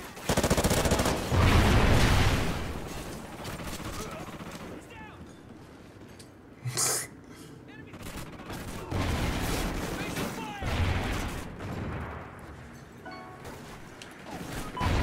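Rapid gunfire from the video game Strikezone, with loud automatic bursts, crashes and booms coming and going, mixed with a voice talking.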